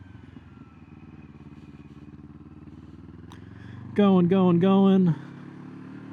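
Motorcycle pulling away as the clutch is released and throttle added, a steady idle followed by a loud, close engine rise in a few jerky surges, with a brief spoken word over it.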